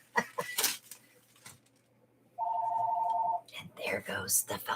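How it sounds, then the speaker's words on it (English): A telephone rings indoors in an electronic warble lasting about a second, with people talking before and after it. "And there goes the phone."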